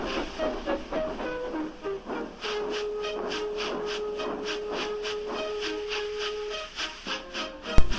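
A steam locomotive hisses and chuffs in a steady rhythmic pattern of repeated steam bursts, with a sustained whistle-like tone running through the middle and a sharp bang at the end.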